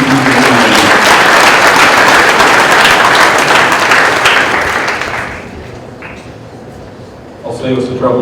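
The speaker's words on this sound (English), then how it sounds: "One more round of applause for our first team." Dense audience applause fills a high school winter sports awards ceremony for the Conneaut Spartans, loud and steady for about five seconds before thinning and fading, with a voice starting near the end.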